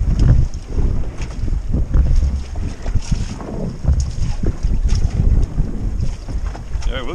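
Strong wind gusts buffet a microphone on a fishing boat, a continuous roaring rush with water slapping beneath and a faint voice briefly in the background.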